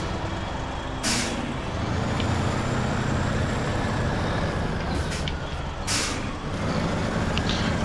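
A heavy truck in the SnowRunner video game labours up a hill, its engine a steady, loud drone throughout, with sharp hissing bursts like air brakes or released air at intervals.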